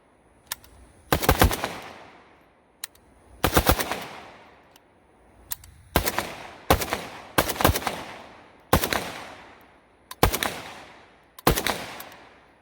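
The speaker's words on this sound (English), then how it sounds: "let's just do some shooting with this thing" AK rifle fitted with an RS Regulate GKR-7MS railed handguard firing outdoors in spaced groups of one to three loud sharp shots, each followed by a ringing echoing decay, with no talk.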